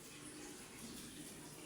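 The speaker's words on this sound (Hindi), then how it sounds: "देखिए, नाजिया मुँह धो रही है" A tap runs steadily while someone washes their face at home: a soft, continuous splash and hiss of water, faint and unbroken for the short stretch, with no talk.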